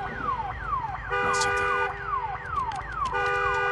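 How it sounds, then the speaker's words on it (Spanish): An alarm in the zombie survival video game Days Gone wails with a repeating siren-like sweep that falls in pitch. A second, higher warbling tone joins partway through, and the sound stays loud and continuous with no voices. "¿Y eso qué cosa es? ¿Esa alarma,"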